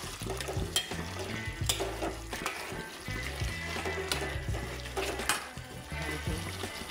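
Kasuri methi being stirred into mixed vegetables in a pan, with a steady soft sizzle and repeated scraping strokes of a spoon against the pan, close and moderately loud, without talk.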